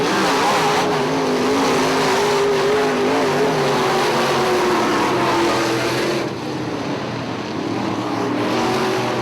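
IMCA modified race cars howling around the dirt oval at Ionia Raceway during a heat race, a loud continuous engine roar with droning harmonics that dips briefly before surging back, no voices.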